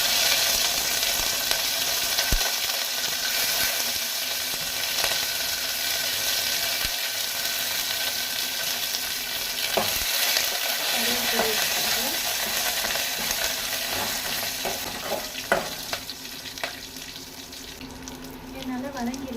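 Oil sizzles and splatters steadily in a frying pan with green chillies, a constant hissing crackle near the mic, with occasional clinks and stirring knocks of a utensil against the pan.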